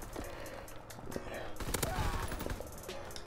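Rapid PPSh-41 submachine gun bursts in a World War II team deathmatch video game, dense overlapping gunfire and battle noise crackling through the whole stretch, with voices under the shooting.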